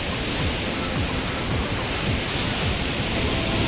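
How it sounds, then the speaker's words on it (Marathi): Strong, dangerous-looking water rushes through Nandur Madhmeshwar dam, making a loud, unbroken roar close by, with no voices heard. "खूप खतरनाक पाणी वाहतंय इथून"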